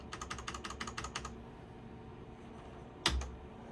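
Rapid keystrokes on an ETC Ion Xe lighting console keyboard, a quick burst of about a dozen close, crisp clicks, then a pause and one louder single key press, with no talking.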